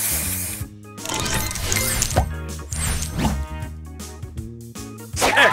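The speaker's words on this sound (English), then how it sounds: "Booster ready! Spray on!" A spray booster effect goes off in the Match Masters puzzle video game, a dense burst of sparkly chimes, clinks and whooshing spray over bright game music, all loud and close.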